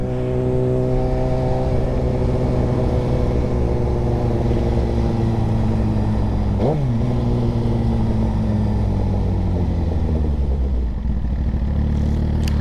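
A motorcycle engine with a Brock's exhaust revs up and down, pitch climbing and falling with gear changes, loud and close throughout with a brief sharp shift midway.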